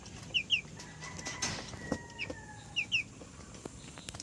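Forty-five-day-old Cobb 500 broiler chickens in a poultry coop let out soft paired chirps and clucks over a low background hum, close but faint, with no talk.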